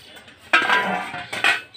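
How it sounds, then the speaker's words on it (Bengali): A metal lid comes off a cooking pot where khasta biscuits have been baking, with a close, bright clattering scrape, a short pause, then a second metallic clink and rattle. "এবার আমি ঢাকা খুলে দেখব"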